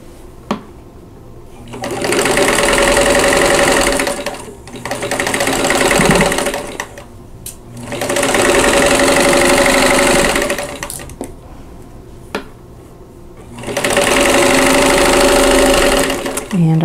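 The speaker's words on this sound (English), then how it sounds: "and then I'm going to sew." A sewing machine stitches quilt block seams in four long runs separated by short pauses, each burst loud and close with a steady mechanical whir, while a voice talks between the runs.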